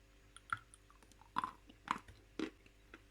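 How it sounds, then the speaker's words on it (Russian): Soft, dry gray Meleuz clay from Bashkiria being chewed up close, with four or five quiet, distinct moist bites and chews spaced about half a second apart, soft and without crunch, no speech. "Жуется абсолютно без хруста, легко."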